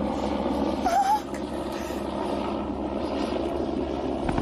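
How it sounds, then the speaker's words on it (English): Black helicopter drones steadily with a continuous rotor and engine rumble, loud and constant throughout, as if approaching overhead. "the distant approach of his black helicopter"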